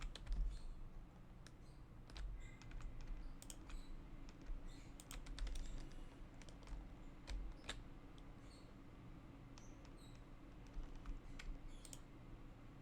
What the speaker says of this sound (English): Holding the control key down each time you click.